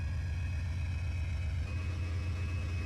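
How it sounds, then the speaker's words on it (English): A locomotive diesel engine in Trainz 2022 revving up, a loud, steady low rumble that shifts and climbs partway through, droning continuously. "Oh, now I hear the engine cycling up."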